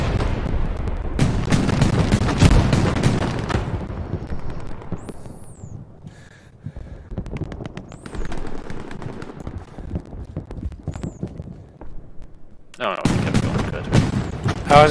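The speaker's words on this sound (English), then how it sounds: "machine gun is coming up this area" Machine gun fire and other gunshots crackle through a battlefield in the video game Hell Let Loose, dense volleys near and far with quieter stretches between bursts, and someone talking over parts of it.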